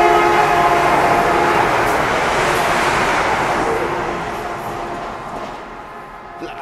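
Vande Bharat express train on the Vijayawada–Chennai route rushing past on a nearby line, a loud sustained roar with rail rumble that slowly fades as it goes by.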